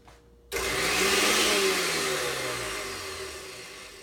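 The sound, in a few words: Vitamix blender running at low speed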